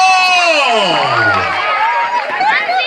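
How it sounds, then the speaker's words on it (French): Loud crowd cheering and whooping with mixed voices fills a church celebration marking a priest's twentieth anniversary of priesthood, sustained and close throughout. "Applaudissements!"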